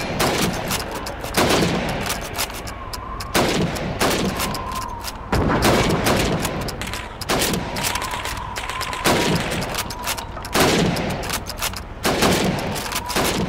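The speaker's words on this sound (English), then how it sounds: "You have 15 seconds to shoot the helmets." Rifle shots crack out one after another at helmet targets on a Red Army training range in Call of Duty 2, a steady series of loud gunfire bursts with brief gaps and faint background ambience.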